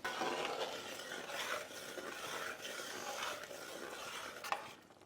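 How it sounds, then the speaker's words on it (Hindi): Chicken simmering in a tomato gravy being stirred, a faint, steady scraping and swishing of a spoon through thick sauce in a pot with a low sizzle underneath and a small clink near the end. "बीच बीच में हम चलाना ना भूलें"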